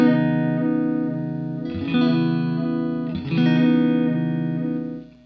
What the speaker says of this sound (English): You can already hear the square mode has some pretty cool glitchy textures.